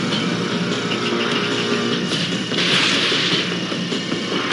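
Explosions destroying harbor facilities and an aircraft carrier in an Ace Combat game, heard as a continuous roaring rumble of blasts with a sharper burst swelling midway, loud and sustained without speech.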